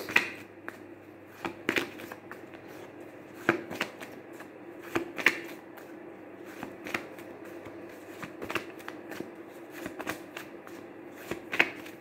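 Tarot cards being shuffled by hand in a reading, a steady run of soft riffling and sharp snapping clicks over about twelve seconds, close and fairly quiet with no talking.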